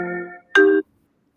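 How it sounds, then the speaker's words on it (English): Two short tonal electronic chimes from a phone signal an incoming call, the second one louder and brighter, then silence. "I had a phone call."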